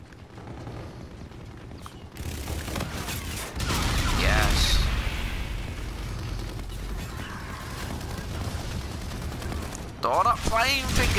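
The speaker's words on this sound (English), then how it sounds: "I've got some sort of akimbo machine guns." Akimbo machine guns in the Infinite Warfare video game rattle in a dense, continuous barrage with mechanical clatter, mixed with game effects and a voice speaking over it.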